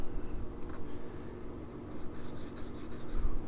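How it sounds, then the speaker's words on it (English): The molded plastic base of a gem stone is sanded rough for a guitar bridge. Quick, soft rasping strokes repeat close up over a low background hum, growing denser toward the end. "rough up the base"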